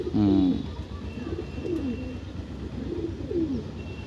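Andhra breeding-pair pigeons in a loft give soft, repeated coos, one louder call at the start followed by a few quieter coos against low background noise.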